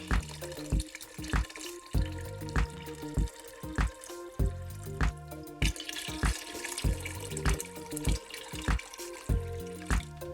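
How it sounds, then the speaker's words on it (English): Water pouring into a pot on the stove for lentil soup, a steady running stream broken by regular rhythmic knocks and clunks, close and moderately loud with no talking. "we're gonna add 8 cups of water"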